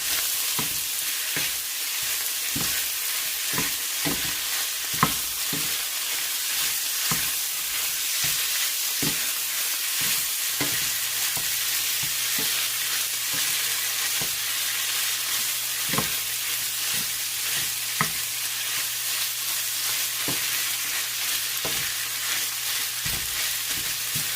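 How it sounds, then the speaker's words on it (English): Chicken chimichanga filling mixed with barbecue sauce in a pan, a steady frying sizzle under repeated scraping and stirring clicks, close and continuous throughout. "And the last one is the barbecue sauce. Here you go. Then we'll just have to mix it all together."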